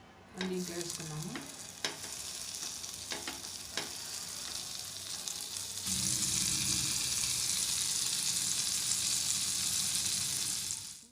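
Chopped capsicum sizzling and frying in a pan for a stuffed omelette, with stirring scrapes early on, then a steady louder sizzle that continues to the end, close and with no talk.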